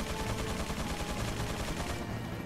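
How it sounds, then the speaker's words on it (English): Rapid gunfire from an enemy in the Resident Evil 4 video game, a dense, continuous burst of shots that fills the whole moment at steady loudness. "See that guy shooting at me?"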